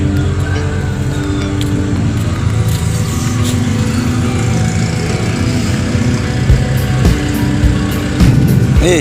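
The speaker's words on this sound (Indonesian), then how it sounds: "Menurunkan mobil truknya dari Dalam kapal feri." Truck engine rumbling loudly and continuously as it drives off a ferry, with a few sharp knocks and clanks near the end.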